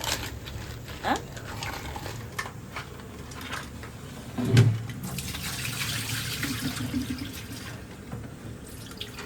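Water splashing and sloshing as crabs are rinsed by hand in a container, with a few clinks and bumps against the vessel.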